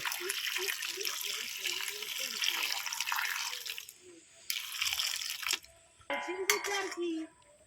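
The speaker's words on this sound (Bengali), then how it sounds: "এবারে দিয়ে দেবো পরিমাণ মতন জল" Water poured from a tap into a cooking pot holding beetroot for homemade tomato sauce, a steady splashing stream that stops and restarts in short bursts, with a voice speaking over it.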